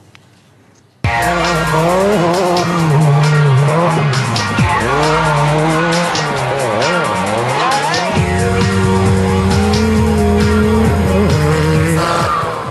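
A Renault 5 Turbo rally car bursts in after a quiet second, its turbo engine roaring loud and close as it revs up and down through gear changes, with tires squealing and skidding.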